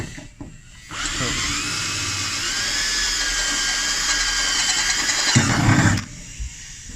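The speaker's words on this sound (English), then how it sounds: "we're just going to pre-drill them to 1/4 inch and then to their appropriate sizes." A drill spins up and grinds steadily through metal for about five seconds, pre-drilling a 1/4-inch hole for a hidden winch kit on a Ram 1500 truck, loud and close, ending with a rougher chatter before stopping.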